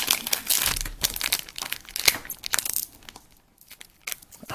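Crinkling and tearing of a Topps Clone Wars Adventures card pack wrapper that resists opening, close and loud plastic crackles in bursts, then a brief quiet pause before more rustling.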